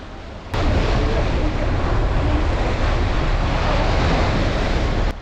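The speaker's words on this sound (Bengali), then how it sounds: "এই মনোমুগ্ধকর সাগরের ঢেউ উপভোগ করতে করতে যাচ্ছে সেন্ট মার্টিনের দিকে" Sea waves on the open water heard from a boat heading to Saint Martin's island, a loud, continuous rushing roar of surf and wind buffeting close to the microphone.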